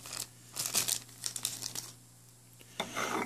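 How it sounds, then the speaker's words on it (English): Plastic bag holding action figures and their accessories crinkles and rustles as it is handled, bursts of crackling separated by a brief quieter pause, close up, with no talking. "your figures come in here in a plastic bag with the accessories"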